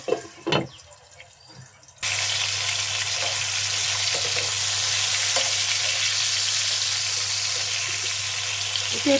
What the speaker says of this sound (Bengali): এখন আমি এটা মিশিয়ে ভেজে নেব